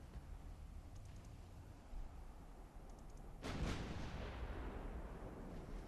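Naval artillery in the Ultimate Admiral: Dreadnoughts game, faint distant booms followed by one louder blast with a rumbling tail, no talk.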